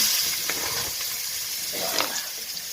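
Chopped onion sizzles steadily in hot oil already spiced with cinnamon, peppercorns, cloves and cardamom, making a continuous close hiss with faint crackles while cooking rui fish malai.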